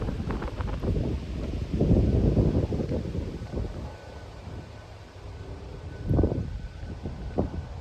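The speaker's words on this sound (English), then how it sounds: "Man, it's windy." Wind buffets an outdoor microphone in uneven gusts, a broad rushing roar that swells and eases with a few stronger bursts, loud and close, with no talking.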